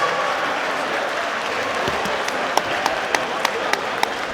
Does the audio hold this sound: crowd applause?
yes